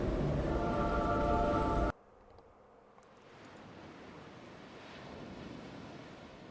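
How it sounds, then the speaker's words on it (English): Strong wind and ocean surf roar loudly for about two seconds, then drop to a much quieter, hissing wind-and-wave ambience that slowly swells again. "Very windy today."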